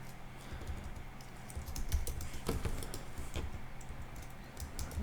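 A name being typed on a computer keyboard: a steady run of light, quick key clicks over a low background hum, close and fairly quiet throughout.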